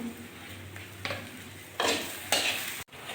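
Rice and lentils for khichuri are sautéed in a kadai, with a spoon scraping and stirring in a few distinct strokes over a faint sizzle. The sound is close and fairly quiet.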